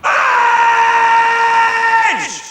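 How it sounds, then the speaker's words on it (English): A session singer lets out a long, loud, sustained scream for a rage-filled soundtrack, holding a steady pitch before it breaks and slides sharply downward at the end. "I demonstrated the scream that we required"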